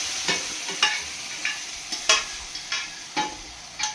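A spoon stirs tomato dal in a pan in a steady series of scraping strokes, about eight distinct scrapes spaced roughly half a second apart, close and clear over a faint background.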